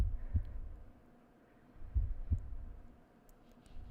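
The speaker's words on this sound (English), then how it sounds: "There's just some heartbeats." Low, soft heartbeat thumps from a Homestuck animation, arriving in paired beats at a slow, steady pace under a faint hum, with no voices.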